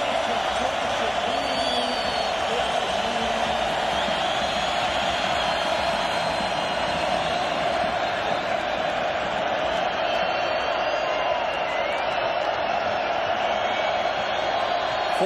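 A packed stadium crowd roars steadily at a Dolphins vs Raiders NFL divisional playoff game, a dense, continuous wall of cheering noise at high volume throughout.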